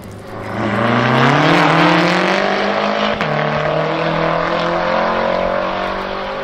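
Two Group 5 race cars, a BMW M6 rated at 812 hp and a BMW M5 F10 at 800 hp with twin turbos and straight pipes, roar off a race start, engine notes climbing loud and close through the gears.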